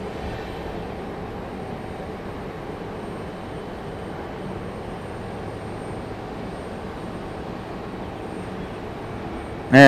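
An American Airlines jet taxis toward the runway at Raleigh-Durham International, a steady distant engine drone and rumble holding level throughout, with a sudden loud bump at the very end.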